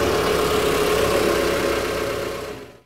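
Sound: traffic engine noise

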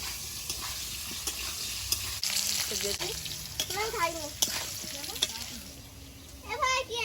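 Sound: potatoes frying in oil with salt and turmeric

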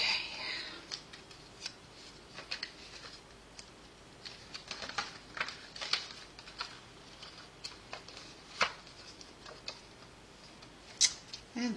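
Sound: scissors cutting paper or plastic

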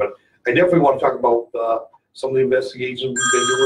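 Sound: phone ringing across the room

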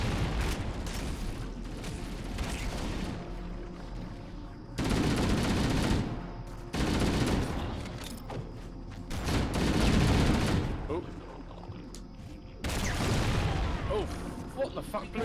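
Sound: explosion blowing up the player in Halo: Combat Evolved video game

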